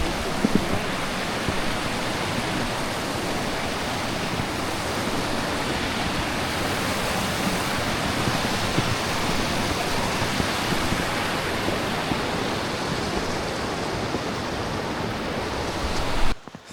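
The Beli Iskar river rushes beside a snowy winter eco-trail, a loud, dense and unbroken roar of flowing water close by.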